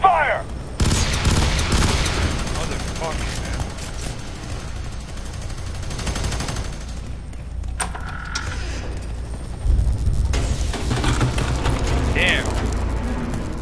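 Gunfire rattles in the shooter FEAR 3: bursts of automatic fire and heavy booms come in several clusters over about fourteen seconds, loud and close, with shouting voices mixed in.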